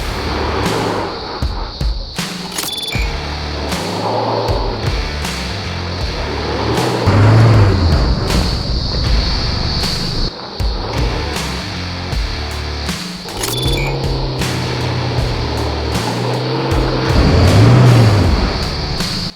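A 4WD engine strains up a steep, wet, slippery clay hill while its front right wheel spins for traction. The motor drones loudly and steadily, with repeated surges of revving and a wheel whir underneath.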